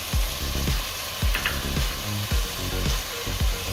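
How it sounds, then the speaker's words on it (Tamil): Beetroot, peas, carrot, potato and beans for vegetable biryani sauté in a pan, with a steady sizzle broken by repeated scraping stirs at a brisk rhythm, close and fairly loud, no talking. "எல்லாம் 1 நிமிஷம் நல்லா வதக்கி வச்சுக்கலாம்."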